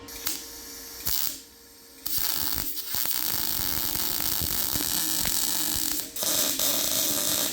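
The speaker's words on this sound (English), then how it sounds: "I'm gonna throw some tacks on it and get this thing welded up." Welding on a Toyota TE72 wagon as brackets are tacked onto a preheated car part: a steady crackling buzz with short stops and restarts between tacks, loud and close, and no voices.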